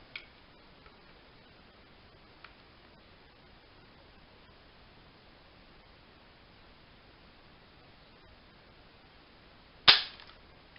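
A Ruger 10/22 BX trigger is pulled against an RCBS trigger scale, and it breaks with one sharp, close click near the end after a long hush, with a couple of faint ticks earlier.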